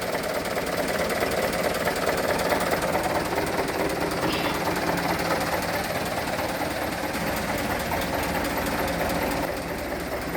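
A car engine with a heavy-starting starter runs at a steady idle close to the microphone, a continuous rough mechanical drone that eases slightly in level near the end.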